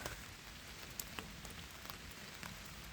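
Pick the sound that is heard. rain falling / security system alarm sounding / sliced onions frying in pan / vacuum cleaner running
rain falling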